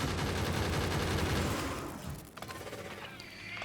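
Turret gunfire in the video game Factorio, a dense stream of rapid shots that fades after a couple of seconds into quieter mechanical background noise.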